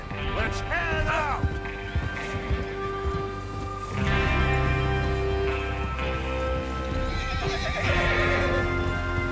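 Horses whinny and hooves clip-clop at a gallop amid loud game sound effects in Red Dead Redemption 2, with voices talking over the action.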